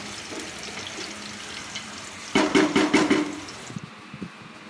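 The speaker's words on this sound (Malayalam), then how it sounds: "നമുക്ക് വെള്ളം ആഡ് ചെയ്ത് കൊടുക്കാം" Water pours into a cooking pot for rice during a home meal preparation, a bright splashing rush that starts abruptly midway, lasts about a second, then tapers off into quiet kitchen clatter.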